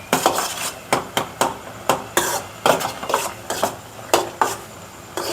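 Rusk halva being stirred in a pan with a spoon, a series of sharp scraping knocks against the metal in an uneven rhythm, close and fairly loud with a faint sizzle beneath and no talking.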